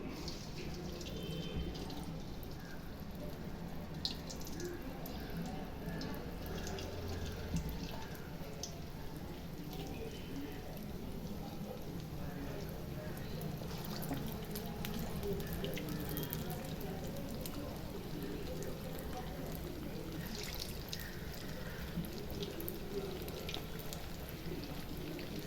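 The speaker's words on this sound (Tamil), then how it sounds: "வடை செய்யறதுக்கு எண்ணெய் வச்சாச்சு கடாயில். இப்போ வடை போட்டுக்கலாம்." Medu vada fry in hot oil in a kadai, a steady dense sizzle and bubbling crackle that runs throughout at moderate level, with occasional faint voices in the background.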